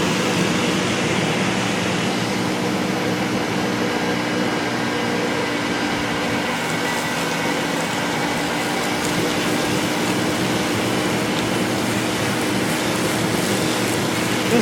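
An old, weathered shop vac runs with a steady, loud motor drone and airflow hiss that holds constant throughout with no talking.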